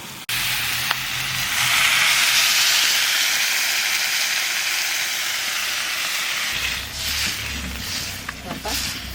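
Water poured onto frying new potatoes in a hot pan sets off a loud, sustained hissing sizzle of steam that gradually settles, with some talking near the end.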